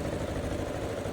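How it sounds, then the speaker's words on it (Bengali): A ferry motorboat engine drones steadily and close while crossing the river to Mayapur, a low, even, vibrating hum with no talk. "তো আমরা ভটভটিতে নৌকাতে উঠে গেছি"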